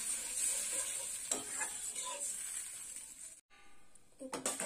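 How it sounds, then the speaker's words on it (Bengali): Water poured into a pan of spice masala frying in oil, the steady close sizzle and stirring scrape suddenly dropping out, then hissing again in sharp bursts as the liquid hits the hot oil. "এবার জল দিয়ে দেবো, দিয়ে দিলাম জল।"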